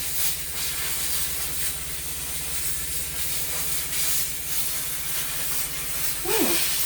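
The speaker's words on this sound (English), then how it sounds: "kind of stretch it as you're steaming it." A handheld steamer hissing steadily as it steams a skein of wool yarn, a soft continuous high airy spray with a low hum beneath, fairly quiet and unbroken for several seconds.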